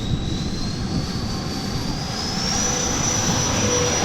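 A Dynam Gloster Meteor twin 70mm electric ducted-fan RC jet on 4S power makes a steady loud whine, its pitch rising as it throttles up, heard close and continuous throughout.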